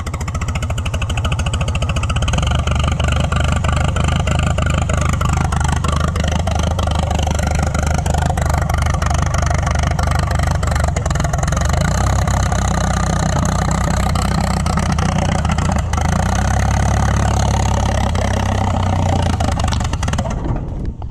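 A Cletrac HG crawler tractor engine runs with poor timing, sounding loaded down: a loud, close, continuous rough rumble with uneven chugging that holds steady for the whole stretch.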